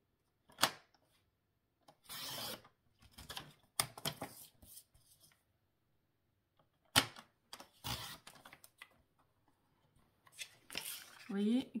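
Card paper being cut with scissors or a trimmer in short, separate crisp bursts with pauses between, close and fairly quiet, with a person talking intermittently.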